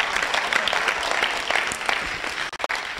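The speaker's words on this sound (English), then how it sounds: "Clap your hands." A church congregation claps during a live service, many hands in fairly quick, uneven applause that continues at moderate loudness before a couple of abrupt brief dropouts near the end.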